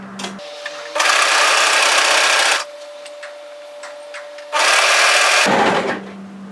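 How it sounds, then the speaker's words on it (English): An overlocker serges through three layers of fabric on a wrap hoodie seam, two loud sustained runs of whirring stitching separated by a quieter idle hum, close to the microphone. "And overlock through the 3 layers there at the front, and then 2 layers at the back."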